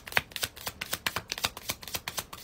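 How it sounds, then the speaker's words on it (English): A deck of tarot cards is shuffled close by in a quick run of crisp riffling flutters, repeated rhythmically and quietly, with no talk. "I know this deck likes to be shuffled a lot"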